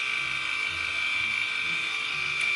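A Bumzzy 2.0 electric body shaver buzzes steadily as it shaves underarms, a close, continuous high-pitched motor whine with a slight rattle.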